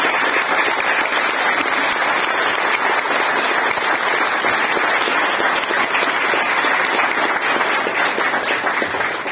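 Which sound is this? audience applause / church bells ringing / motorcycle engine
audience applause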